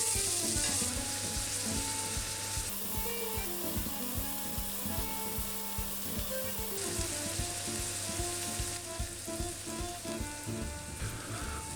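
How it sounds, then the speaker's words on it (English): Onions fry slowly in olive oil in a pan over medium heat, giving a steady, even sizzle with faint stirring that runs unbroken for the whole stretch with no voices. "start to slowly fry the onions on a medium heat until they're soft"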